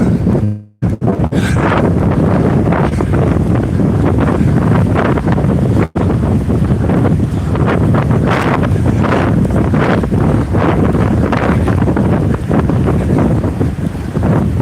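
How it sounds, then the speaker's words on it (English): Strong wind buffets the microphone during an outdoor run in Japan, a steady, loud roar that barely lets up, with a brief dropout near the start. "It's really windy."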